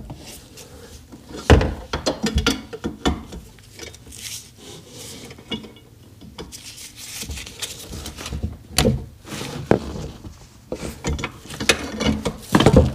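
Drive shaft being worked out of a Seadoo RXDI watercraft: irregular metallic clanks, ratcheting clicks and scraping mechanical knocks, close by and in uneven bursts.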